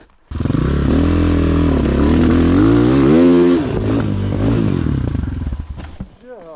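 A Rottor Bronx 300 motorcycle ridden off-road, its engine droning loud and close with rising revs, then easing off, with some clatter and a voice speaking near the end.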